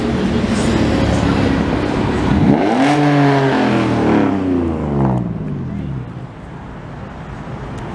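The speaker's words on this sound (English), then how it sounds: "One Mustang, two Mustangs." Ford Mustangs cruising Montreal streets during Grand Prix weekend: a loud engine note rises and falls with a clear pitch sweep as a car passes close by, then fades into traffic hum while someone talks nearby.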